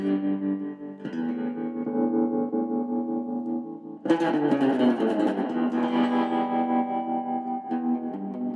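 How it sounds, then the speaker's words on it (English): Sustained electric guitar chords through a Vox DA5 modeling amp pulse with a wavering tremolo and wash of reverb, a second strummed chord entering louder midway. "Tremolo and reverb."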